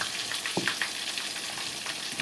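Pollock fillets coated in almond flour frying in a pan, a steady close sizzle with faint crackles and a brief utensil touch, no talking.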